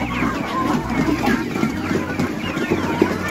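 Chickens cluck on a farm, with several birds making busy, overlapping calls close by while people talk over them throughout.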